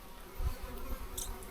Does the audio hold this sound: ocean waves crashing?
no